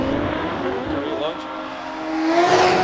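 A race car engine roars and revs at a hillclimb at Doune, its pitch climbing steadily and growing louder toward the end, with a voice speaking over it.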